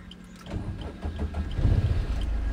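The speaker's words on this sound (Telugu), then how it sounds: "కీ స్టార్ట్ చేయండి." A car engine cranks over with the key and catches, the low churn building into a rougher, louder idle that keeps running at a driving school lesson.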